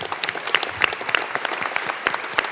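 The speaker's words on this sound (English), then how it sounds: "I would like to give a round of applause to all our 4-H members and the officers that are here today" A crowd at a state legislative day applauds 4-H members and officers, a brisk burst of many hands clapping with some individually distinct sharper claps standing out, moderately loud and continuous.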